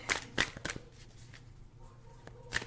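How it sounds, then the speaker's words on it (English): A tarot deck, the Krans Wild Unknown, is shuffled by hand in a few quick riffling bursts of cards slapping together, close up, with short pauses between. "we were shuffling the Krans deck, the Wild Unknown"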